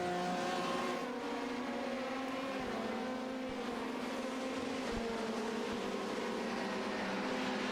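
LMP1 and LMP2 sports prototypes race toward the Ascari chicane at Monza, their engines droning loud and steady with pitch shifts as cars pass and downshift.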